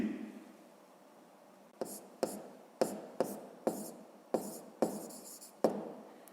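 A pen writes on paper during a fifth-grade math lesson, tracing a sum with eight or nine sharp, evenly spaced strokes that follow a quiet opening, close and crisp with no voice over them.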